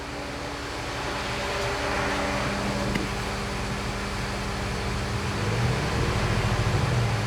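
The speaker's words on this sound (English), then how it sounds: "Now watch what happens when I rev the motor up just a little bit." An LS-swapped engine fitted with a Davies Craig electric water pump hums at a steady drone, then revs up slightly and grows a little louder toward the end, with no voices over it.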